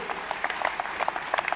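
Crowd applauding a New Year's speech at the Zénith arena, a dense, steady wash of clapping from a large hall audience, continuous and moderately loud with no voices on top.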